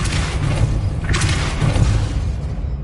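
Depulso spell cast in Hogwarts Legacy, a single loud booming force blast with a rushing whoosh that swells midway over a constant game soundscape.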